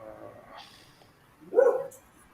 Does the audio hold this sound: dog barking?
yes